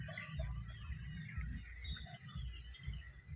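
Brahma chickens cluck quietly nearby in a low, irregular chatter of short calls over soft background noise, with no talking.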